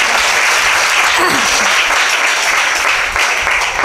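Loud, dense applause from a kirtan audience fills a temple gathering, steady clapping sustained throughout with a faint voice briefly rising in the middle.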